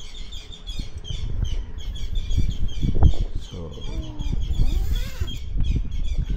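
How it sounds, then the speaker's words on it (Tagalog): Birds chirping on a cold morning near Infanta Highway, repeated bright tweets and calls over a low rumble of passing vehicles, with people talking nearby. "Ingay ng mga ibon."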